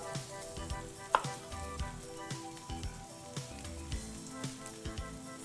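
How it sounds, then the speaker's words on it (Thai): Broccoli pieces stir-fried in a wok or pan, a steady sizzle with scraping and clattering stirring strokes, close and fairly loud, without any talk. "ผัดประมาณ 1 นาทีนะครับ"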